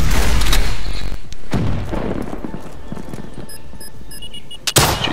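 Loud bursts of video game gunfire bring down a UAV, with dense rapid shots and a sharp final blast near the end.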